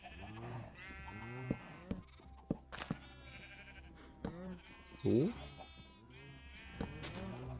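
A sheep in the game Minecraft gives a short bleat midway, heard among steady background music and someone talking throughout.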